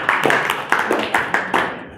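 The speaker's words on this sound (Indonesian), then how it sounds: "Tepuk tangan untuk kelompok 4." Applause from a class of students for a group, short bursts of clapping with rhythmic peaks, fairly close and moderately loud, with no talk over it.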